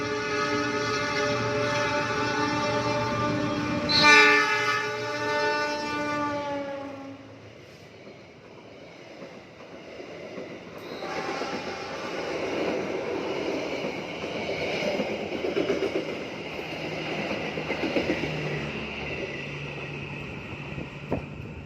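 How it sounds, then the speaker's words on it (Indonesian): The Brawijaya passenger train sounds a long horn blast, then rumbles through Ngebrok station without stopping, with rolling wheel and carriage noise, close and loud, fading slightly near the end. "Ini kereta api Brawijaya persiapan melintas langsung."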